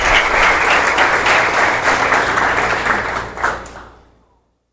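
A church congregation applauding during a sermon, a dense, loud wash of many hands clapping that swells, then fades out quickly to silence near the end.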